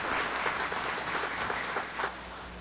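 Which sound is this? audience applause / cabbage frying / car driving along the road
audience applause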